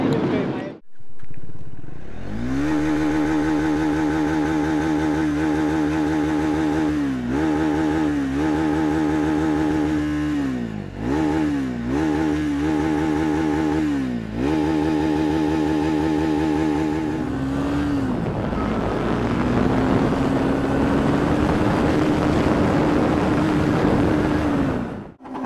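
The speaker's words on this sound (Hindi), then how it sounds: "सुनो एग्जॉस्ट नोट सुनो, क्या सुनना है सुनो" A Triumph Speed 400 motorcycle sends a steady, throaty exhaust drone at close range, with several quick throttle blips and dips before it settles into a higher, rougher rev near the end.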